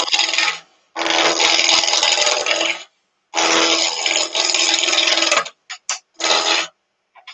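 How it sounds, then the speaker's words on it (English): Epoxy scraped off the surface of a coloured pot with a finial lid, heard as loud, harsh rasping strokes, two long ones followed by several short bursts, close up with no talk. "That was that epoxy coming off."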